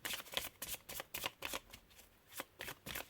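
Tarot cards being shuffled and drawn, quiet close-up riffles and soft flicking slaps of card stock in quick irregular bursts with short pauses between them.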